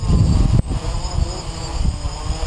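A DJI NAZA GPS quadcopter flying in high winds, its propellers giving a steady, loud buzzing drone broken by brief gusty wind rumble.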